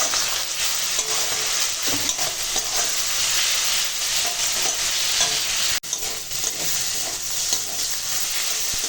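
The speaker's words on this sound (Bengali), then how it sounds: "এখন মশলা কষানো হয়ে গেছে" Spices with ginger-garlic paste, turmeric, chilli powder and salt sizzle steadily in a pan while being stirred, a continuous close frying hiss with soft scraping throughout, no voices.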